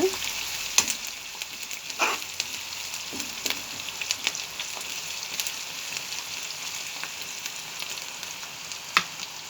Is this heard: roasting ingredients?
yes